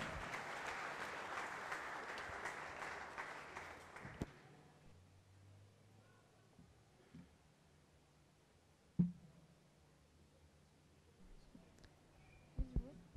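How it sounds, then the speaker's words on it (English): Audience applause for an award recipient at a university orientation event fills the opening four seconds as a dense burst of clapping, then stops abruptly, leaving quiet room noise with a few faint knocks. "Please give her a big round of applause."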